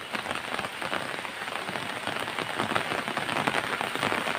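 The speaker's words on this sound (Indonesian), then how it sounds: "karena cuaca hujan ya teman-teman" Steady rain pours down on surfaces in a rural village in Sumedang, a dense, crackling patter that holds constant throughout, close and fairly loud, with no voices.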